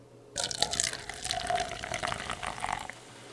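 An influencer drink pours from a can into a Red Solo Cup, a close, steady splashing stream of liquid lasting about two and a half seconds after a quiet start, then stopping abruptly.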